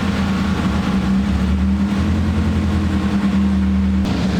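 Turbocharged Chevrolet Cruze strapped to a chassis dyno, engine holding a loud steady high-rpm drone with a deep exhaust rumble and a slight shift in tone partway, then easing off at the end.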